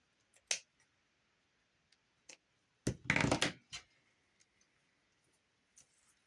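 Scissors cutting curtain fabric from Walmart, sparse close snips and clicks with one dense burst of rapid cutting and rustling in the middle, quiet in between.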